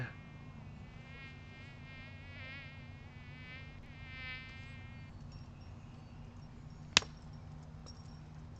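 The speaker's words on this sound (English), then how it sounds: "The mosquitoes are out too." A mosquito's thin, wavering whine buzzes close by for several seconds, then goes quiet before a single sharp slap.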